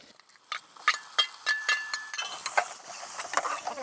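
Tomatoes dropped into a pan of fried ginger-garlic paste bring a run of sharp clinks and scrapes from metal utensils on the cookware, separated by short gaps with no talking.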